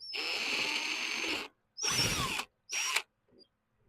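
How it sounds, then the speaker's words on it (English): A small power nut driver fastens a nut during electrical wiring for a Hayward HeatPro pool heater, whirring in three close bursts: one long run and then two shorter ones. "I found a little nut driver that'll fit"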